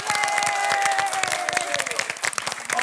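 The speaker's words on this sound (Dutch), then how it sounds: "geef er een groot applaus" A studio audience at a Dutch television game show breaks into lively applause with scattered sharp claps and a few cheers, while sustained organ notes play underneath.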